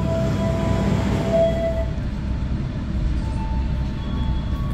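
Kaligung passenger train pulling out of Tegal station at night, a steady loud low rumble of wheels and carriage noise heard from inside the coach, with no talk.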